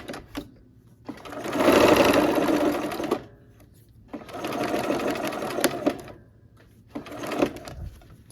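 A sewing machine stitches a quilt block with a quarter-inch seam in three bursts of rapid mechanical whirring, the first longest, separated by brief pauses and small clicks, loud and close.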